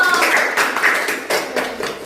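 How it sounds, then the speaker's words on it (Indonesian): A small audience at a student podcast session claps briefly. The close, fairly loud bursts of clapping are uneven and fade somewhat over two seconds. "Tepuk tangan dulu dong."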